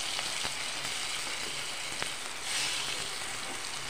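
Potato pieces frying in hot oil with turmeric, a soft continuous sizzle and hiss with a few light crackles throughout.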